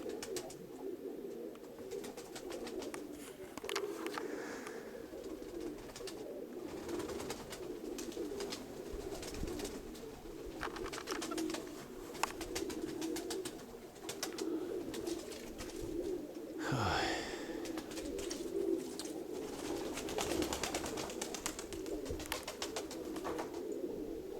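Pigeons coo steadily and close by throughout, a continuous layered murmur of soft cooing from several birds in a loft or yard, with no talk.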